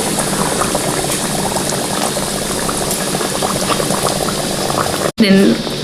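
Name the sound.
ariselu rice cakes frying in hot oil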